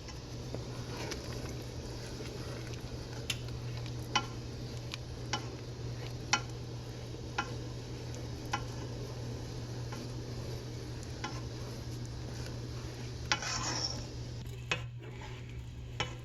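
Strawberry pepper jelly churns at a rolling boil in a pot, a steady bubbling hiss broken by occasional light clicks of a utensil stirring against the sides.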